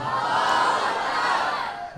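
A large crowd at a religious gathering chants Allahu Akbar in unison, a loud, sustained mass of voices filling the whole clip.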